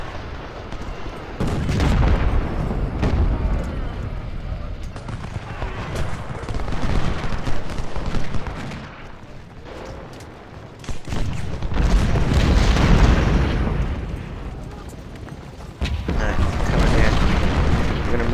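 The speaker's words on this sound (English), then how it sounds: "I'm selecting my units of cannons and I'm having them attack this train" Heavy cannon fire from artillery units in the Civil War strategy game Ultimate General: Civil War, attacking a cannon-armed train: repeated loud booms and rumbling blasts rolling through most of the stretch with little pause.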